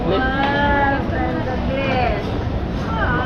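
Repeated bleating of goats, several wavering calls overlapping, close, over a steady noisy background with faint voices.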